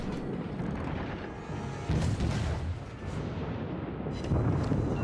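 Warship guns fire in World of Warships, with heavy booming salvos rolling over a constant engine and ocean rumble, several distinct blasts spaced seconds apart.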